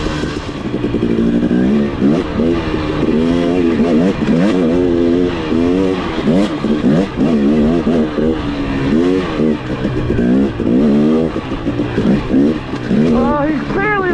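A 2021 KTM 125XC dirt bike engine revs and accelerates hard through repeated rising surges, loud and close, with gear changes and wind noise.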